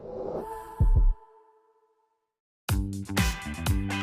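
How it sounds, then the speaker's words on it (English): A heavy, deep heartbeat effect in a Nissan electric car advert, with two close thumping double beats, a brief silence, then more thudding beats under swelling electronic tones. "Want to feel your heartbeat faster?"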